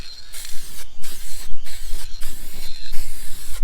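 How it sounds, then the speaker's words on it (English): Spray can applying lacquer over a dry base coat on a rust-treated repaint, in five or six loud, close hissing bursts separated by short pauses. "Now my base coat is dry, it's just a matter of putting a little bit of lacquer on it"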